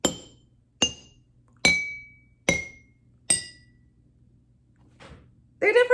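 A teaspoon taps glass bottles filled with different amounts, giving five separate bright clinks at an even, unhurried pace, each ringing briefly at its own pitch, followed by a short faint tap and a brief voice.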